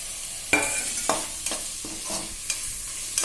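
Medium tomatoes, cut into long pieces, sautéed with ginger garlic paste in a pan: a low steady sizzle broken by a series of sharp spatula scrapes and knocks at uneven intervals, close and without talk.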